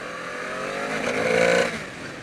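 A 2014 Honda VFR800F with a V4 VTEC engine accelerating on the road, a brief rising engine note that swells and climbs in pitch before easing off, heard from the rider's position over wind noise.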